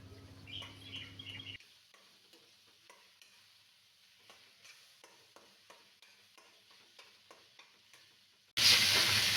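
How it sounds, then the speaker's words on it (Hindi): Ladle scraping and breaking up stuffed bitter gourd (karela) frying in a pan, a series of soft irregular stirring scrapes over a faint sizzle, ending in a sudden louder burst of hiss. "तो कड़छी से ही अच्छे से उनको काट देना है, अच्छे से नहीं, रफली।"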